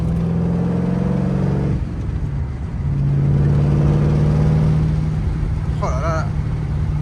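A car engine with very low exhaust pipes drones steadily as it cruises on a scenic road, with a rising rev partway through and a loud, sustained note. People talk in French over the engine.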